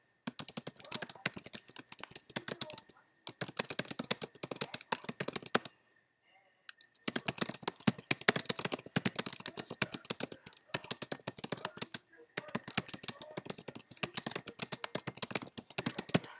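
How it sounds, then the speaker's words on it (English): Rapid clicking on a computer keyboard, quick bursts of keystrokes with short gaps and one longer pause, faint and close. "I'm going to just type a quick description here real quick"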